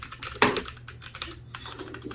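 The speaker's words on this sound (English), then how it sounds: "There's a lot of typing going off somewhere." Rapid clattering keystrokes on a computer keyboard somewhere nearby, an uneven burst of taps with one sharper strike, fairly quiet and heard alone.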